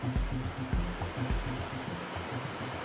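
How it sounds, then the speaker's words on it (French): The Bras-Rouge waterfall, a cascade over polished lava rock on Réunion, makes a steady broad rushing roar, fairly close and continuous, mixed with low rumbling and a rhythmic low pulsing sound. "le groupe arrive sur un des plus beaux spots de la randonnée, la cascade Bras-Rouge, célèbre pour ses roches de lave polies"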